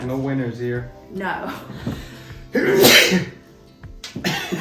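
A loud, close sneeze bursts out on its own in the middle of casual, playful chatter during a relaxed at-home guessing game, with voices talking before and after it.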